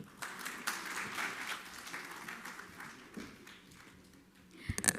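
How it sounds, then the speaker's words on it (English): An audience applauding at a citation ceremony and annual report release, a fairly faint spread of clapping that swells and fades, with a few louder claps near the end. "can we have one more time a bigger round of applause?"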